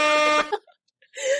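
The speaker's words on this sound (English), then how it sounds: "I got to drop the Jamaican air horns." A short blaring horn blast with a stacked, brassy tone cuts off abruptly, followed by a brief pause and the start of a second blast, played as a Jamaican air horn sound effect.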